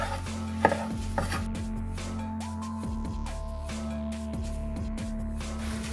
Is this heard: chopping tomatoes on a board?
yes